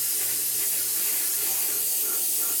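Airbrush spraying paint onto an Academy F-16I SUFA scale model kit, a constant close, bright hiss of air and paint that stays steady throughout.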